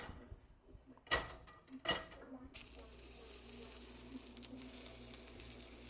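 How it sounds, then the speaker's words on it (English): Steak fat rendering in a hot pan gives a steady close crackling sizzle after a few sharp clinks and knocks of handling at the start. "sometimes I like to start off by cooking the steak, just the fat to render it down"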